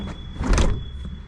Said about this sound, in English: when you close it, you kind of hear it scraping